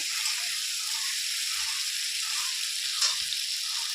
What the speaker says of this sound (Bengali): এর মধ্যে মটরশুঁটিগুলো দিয়ে দিতে একবারে ভাজা হয়ে যাবে তাই